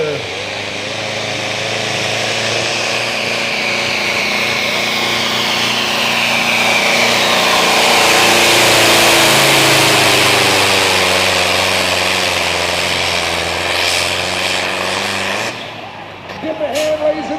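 A pulling tractor called Toe Mater, driven by Jack Cooley of Burgessville at a truck and tractor pull in Melbourne, Ontario, roars with a loud, sustained engine howl whose pitch rises and swells before dropping away near the end.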